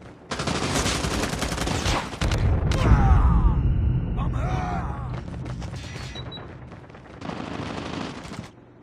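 Grenade blast and bursts of automatic gunfire in the mobile shooter game Call of Duty Mobile: rapid loud volleys, a heavy boom near three seconds, then more firing, with brief voice callouts mixed in.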